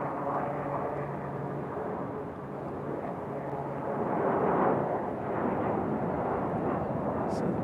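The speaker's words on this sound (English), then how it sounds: "Couldn't miss our CRJ departure." A CRJ regional jet departing Raleigh-Durham International gives a moderate, distant engine rumble that swells slightly midway and then holds steady, with some talk faintly beneath.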